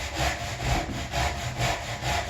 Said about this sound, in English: So I can cut kind of level, just rip right down the line.